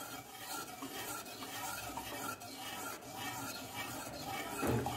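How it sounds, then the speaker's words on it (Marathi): Rice flour being stirred into hot water in a pan, giving a steady soft scraping and swishing with a faint sizzle. It runs continuously and close, with no talk. "आपण तयार केलेलं आहे तांदळाचं पीठ याच्यामध्ये थोडंसं टाकत राहायचं आहे आणि मिक्स करत राहायचं"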